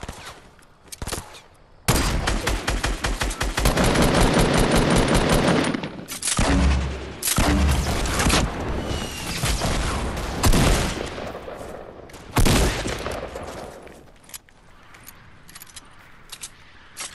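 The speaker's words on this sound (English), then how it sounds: "Got sniped by someone else, dude." Rapid gunfire and sharp sniper shots in Fortnite Battle Royale come in long, loud bursts, with sustained automatic fire in the first half and separate heavy cracks later, no talking.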